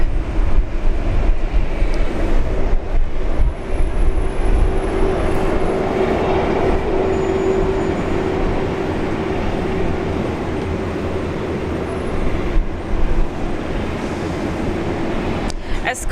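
Fiji Airways airliner departing Brisbane Airport, a steady, distant jet roar that holds broad and continuous across the whole stretch, with a faint tonal whine running through it and light background noise.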